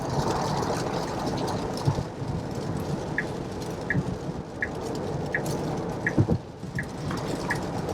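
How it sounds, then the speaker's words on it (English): Rain drums steadily on a Tesla Model Y while it drives, a dense continuous patter heard from inside the car, with faint regular chimes ticking through it. "it's raining outside"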